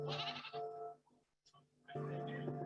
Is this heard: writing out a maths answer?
no